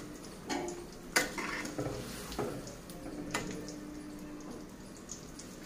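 Fried puti fish dropped into a simmering curry with a few soft plops and clatters, then a quiet bubbling sizzle and light utensil taps, close by.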